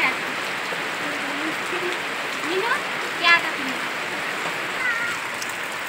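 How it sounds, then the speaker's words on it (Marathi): Steady rain falls outside on a wet morning, a continuous even hiss holding throughout with a few faint chirps and brief sounds over it. "मस्त पाऊस चालू आहे"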